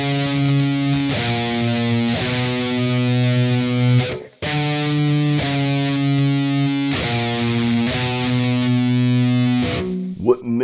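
Heavily distorted 7-string guitar in standard tuning playing a death metal riff, chugging sustained power chords in two long phrases separated by a brief break, loud and alone.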